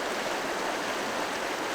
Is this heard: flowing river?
yes